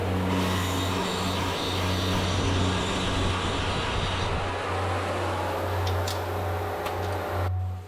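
Wire wheel spinning against a rusty bolt, a steady loud whirring grind with constant motor hum and a few sharp ticks, running continuously close up before cutting off at the end.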